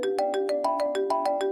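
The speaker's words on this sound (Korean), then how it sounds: "그날 새벽 미친 듯이 울리는 전화벨 소리에 잠에서 깨게 되었습니다" A telephone rings insistently in the small hours: rapid electronic ring bursts repeat in a steady pulsing pattern, fairly loud and close, with no voices.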